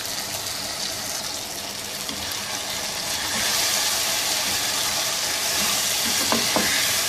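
Okra and onion cook slowly in a covered pan, giving a steady, soft sizzle and hiss of steam that swells slightly partway through, with a few faint clinks near the end.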